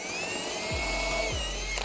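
Power drill driving into a wood block to make screw holes, a steady high motor whine with two brief low thuds as the bit bites, close and alone.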